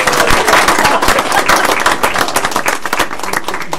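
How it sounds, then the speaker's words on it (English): Audience round of applause at a school board meeting, loud, dense and close clapping from many people with rapid sharp hand strikes running continuously throughout. "let's give them a big round of applause"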